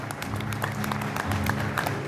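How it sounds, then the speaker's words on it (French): Audience applause at a tribute birthday evening, a steady wash of clapping with a low musical hum running beneath it throughout. "qu'on applaudit très très très fort."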